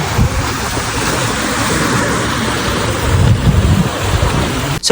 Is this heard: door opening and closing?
no